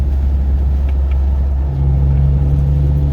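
A Jeep JK fitted with an AFE Scorpion exhaust runs loud and close in gear with a deep, steady engine drone, and the pitch rises partway through as the revs climb.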